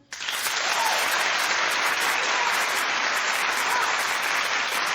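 A studio audience on a daytime talk show claps loudly and steadily, a dense wash of applause that starts abruptly and holds for several seconds with no talking over it.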